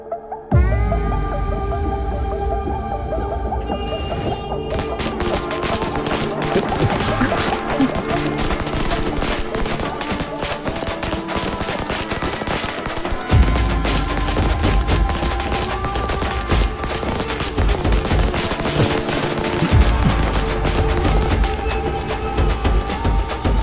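A long string of firecrackers bursts outside a house, a dense, continuous crackle of rapid pops lasting throughout, loud and close, with music playing underneath.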